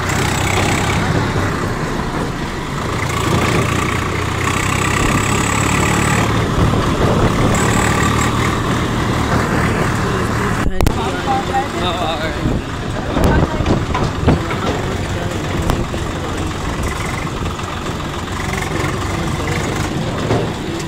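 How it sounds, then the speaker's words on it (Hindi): A tractor with a trolley reverses with its engine running in a steady, close, low rumble that continues throughout, while people talk nearby. "देखो भाई बैक हो रही है ट्रॉली"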